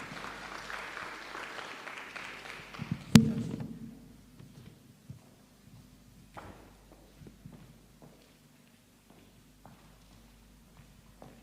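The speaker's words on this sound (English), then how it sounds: "Please clap for her." An audience at a leadership workshop claps briefly, a soft round of applause that fades quickly, followed by a sharp thump and then scattered faint footsteps and taps in a quiet room.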